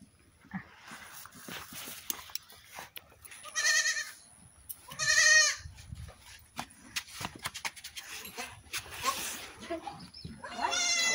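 Goats bleating on a goat farm, several loud separate calls spaced a few seconds apart over quieter rustling and distant background noise, close by.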